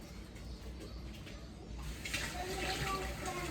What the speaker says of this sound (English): First, I'm gonna wash my hands.